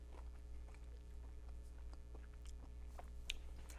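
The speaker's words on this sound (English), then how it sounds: "I'm backwards because I'm chewing." Close, soft chewing sounds come from a person eating a cookie at a Christmas gathering, with irregular moist clicks and crunches over a steady low hum. Nobody speaks.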